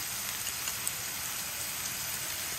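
A soft, steady hiss of flour frying in a pan for beef goulash gravy, heard faintly and evenly throughout with no voices.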